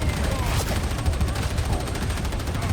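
The Ogryn Leadbelcher, a heavy gun in a video game, fires a dense, continuous stream of rapid shots, loud and close, with booming low thumps blending into a sustained roar for the whole stretch.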